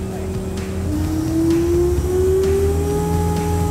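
An ice resurfacing machine's engine revs up steadily, its pitch climbing and holding at a loud, continuous drone with low mechanical rumble underneath.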